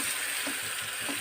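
Food fries in hot oil with a steady bright sizzle, brief and close, with faint stirring underneath and no voices.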